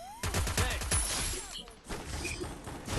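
Rapid bursts of gunfire in the mobile battle game Free Fire, loud shots crowding the first half then sparser fire, with game effects and faint background voices.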